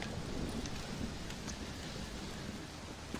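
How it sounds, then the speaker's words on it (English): Steady rain and wind from a thunderstorm in the Red Dead Redemption Undead Nightmare video game, a dense continuous wash with faint rumbling underneath, fairly loud and without speech. "Well, it's just the storm, John."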